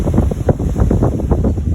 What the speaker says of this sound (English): wow, it's windy today